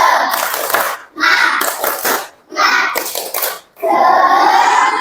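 A group of children in an Indonesian classroom claps the rhythmic 'tepuk semangat' spirit clap in bursts, with short pauses between sections and some chanting voices mixed in.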